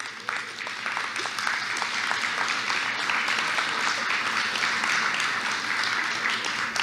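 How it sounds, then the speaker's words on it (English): Audience at a Norway House Cree Nation opioid presentation applauds, a dense, steady wash of clapping that holds at an even level for several seconds with no talk over it. "So let's give Cindy a big round of applause"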